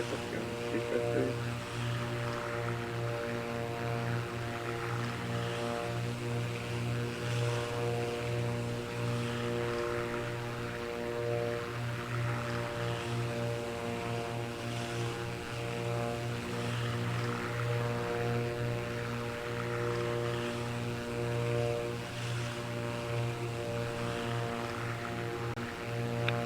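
Steady, loud jet-engine roar of a simulated airliner on its takeoff run in a flight simulator, droning evenly and continuously without a break, with faint talk underneath.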